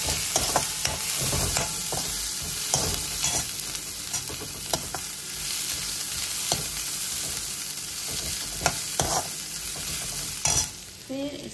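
Green chili dropped into a frying pan with onion and ginger, sizzling steadily at close range while a spoon stirs and scrapes in repeated bursts; no talking.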